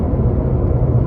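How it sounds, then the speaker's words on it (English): A steady low rumble of engine and road noise fills the cabin of a new car while driving, constant and fairly loud throughout a brief stretch with no talking. "I am driving my new car"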